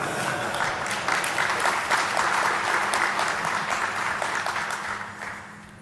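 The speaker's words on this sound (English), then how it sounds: "this is where you should clap your hands" A conference audience applauds in a lecture hall after a live security demonstration, a dense wash of clapping that holds steady for several seconds and then starts to fade.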